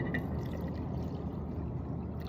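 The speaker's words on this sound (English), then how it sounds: "And then I'm going to fill it with water" Water is poured into a glass mason jar holding garden soil, a soft steady rushing trickle throughout, ending with a brief sharp clink.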